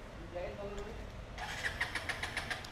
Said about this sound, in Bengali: গাড়ি তো স্টার্ট হয় না।